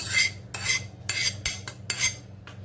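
Chakka (strained yogurt) and heated mango pulp being whisked in a clay pot with a beater: about six rhythmic, scraping strokes in steady succession, close and fairly loud, with no talking.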